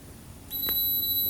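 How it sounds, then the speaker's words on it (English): Steady high-pitched electronic beep from an ignition timing light or tool as a motorcycle's spark fires when the F timing mark lines up; a single sustained tone starts partway through, fairly loud over a quiet background. "Right when the F hits that mark, you should hear a beep, and that's when it's sparking."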